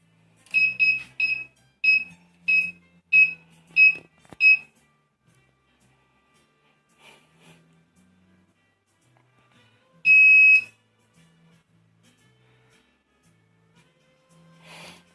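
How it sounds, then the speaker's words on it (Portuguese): The buzzer of an Arduino circuit powering up beeps in a rapid series of about seven short, shrill chirps, followed by quieter clicks, then one longer loud beep, with faint background sounds between. "eu vou desligar e ligar o circuito do Arduino para vocês verem a inicialização dele"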